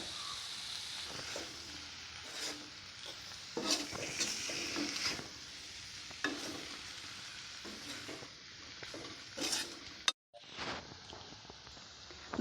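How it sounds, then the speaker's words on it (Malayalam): Spice powders frying in oil in a pan for a prawn curry over a low flame, stirred at intervals; a steady close sizzle with scraping strokes and a brief break near the end, no talking. "എണ്ണയിൽ കിടന്ന് നമ്മുടെ ഈ പൊടികളെല്ലാം മൂത്ത് വന്നിട്ടുണ്ട്"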